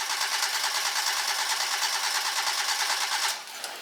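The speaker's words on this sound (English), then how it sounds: "And now I can crank it for 10 seconds to really kind of see what that average is." An engine starter cranks with fuel or ignition disabled, giving a rapid, even, buzzing whir that holds steady for about three seconds before cutting off.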